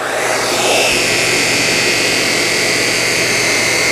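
Shark Apex TruPet Zero-M vacuum cleaner running on thick carpet, a loud, steady, close whirring roar that holds evenly throughout with no talking.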